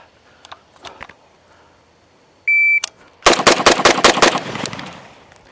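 A Zastava M92 rifle firing GROM ammunition lets off about six loud, close, rapid shots right after a sharp electronic timer beep, preceded by a few faint clicks and handling noises.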